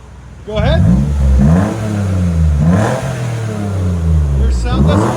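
A loud, raspy 2012 Toyota Sienna minivan engine with its muffler removed revs up and down repeatedly, close by, reaching about 100 decibels, with a deep throaty roar between bursts.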